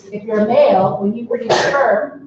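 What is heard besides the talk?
sneeze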